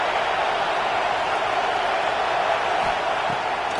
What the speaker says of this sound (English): if you didn't know this was a big play, the crowd is telling you